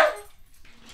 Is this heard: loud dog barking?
yes